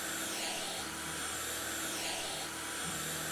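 A window cleaning device running in the House Flipper video game, a steady whirring, vacuum-like drone that holds even and fairly loud throughout with no talk over it.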